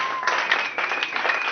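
A church congregation at a Bible conference applauds with steady, brisk clapping from many hands that fills the whole short stretch.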